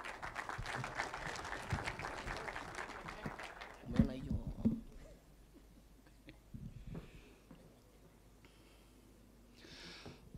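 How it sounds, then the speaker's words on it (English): A gathering audience claps for several seconds, the applause dense at first and then thinning out, followed by quieter room sounds and occasional noises. "Round of applause, please."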